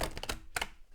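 A brief burst of tarot cards being shuffled, several quick close riffling taps followed by one last snap, alone and fairly faint.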